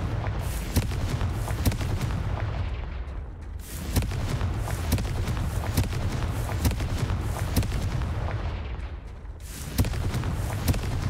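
Repeated Confringo fire spells blasting in the video game Hogwarts Legacy, a dense run of loud booming explosions and crackling impacts filling the whole stretch, with brief dips between bursts.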